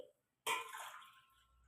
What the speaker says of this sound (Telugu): ఈ గ్లాస్తోని 2 గ్లాసెస్ వాటర్ వేసుకోవాలి.